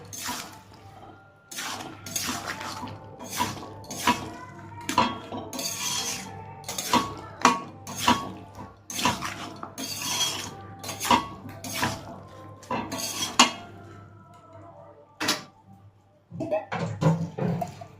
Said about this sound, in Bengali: এটা ভালো করে একটু নাড়িয়ে আবার একটু ঢাকা দিয়ে দেবো